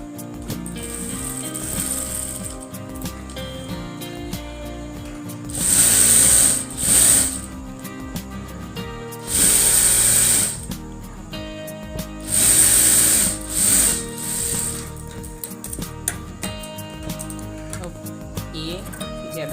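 A sewing machine stitches double-folded baby frock fabric in three short bursts of two or three runs each, loud and close over a steady music bed, with quiet stretches between.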